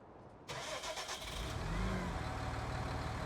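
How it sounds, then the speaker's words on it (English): Truck engine starting and then running at a steady low rumble as the truck backs up to a trailer in a video game, sustained and alone without talk. "And we'll back on up the truck."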